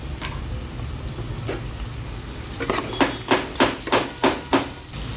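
Onions frying in oil with mustard and cumin seeds for a fenugreek-tomato dish, a low continuous sizzle punctuated by a run of sharp, evenly spaced clinks of a utensil against the pan.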